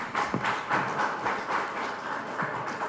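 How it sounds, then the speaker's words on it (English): Audience applause for a finalist at a startup pitch competition, a steady wash of clapping from a crowd of moderate size, sustained throughout with no talk over it. "Do we want to do another round of applause for him?"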